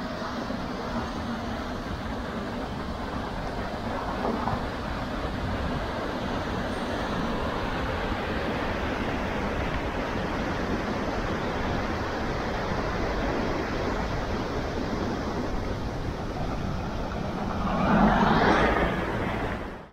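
Ocean surf rolls at Tamarama Beach in Sydney as a continuous broad wash of breaking waves, steady and fairly loud, swelling briefly near the end.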